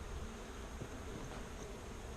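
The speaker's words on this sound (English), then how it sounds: "It's a lot of bees." Honeybees at an open beehive make a soft, steady buzzing hum, faint and continuous, with no voices.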